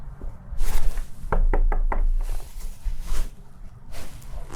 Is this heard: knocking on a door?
yes